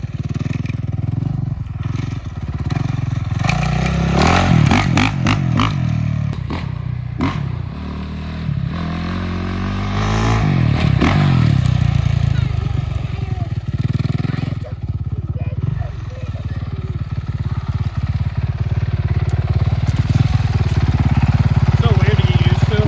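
A Honda 450R dirt bike engine rides nearby, revving and dropping through several throttle swells with a rough, buzzing tone, loud throughout, with voices talking in the clip.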